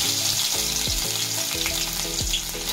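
Chopped garlic fries in hot oil in a kadai for cabbage manchurian, giving a loud, continuous sizzle with a few stirring knocks.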